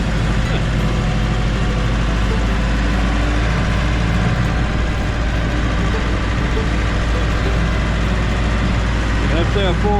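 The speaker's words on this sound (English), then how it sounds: "That's that four-wheel drive tractor." Four-wheel drive tractor engine climbing a steep hill among trees, a loud, steady low diesel rumble running throughout under a voice.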